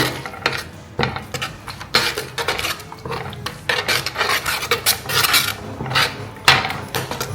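Fish curry being stirred with spices in a pot, close and loud, a steady run of scraping, rasping strokes against the metal with no voices.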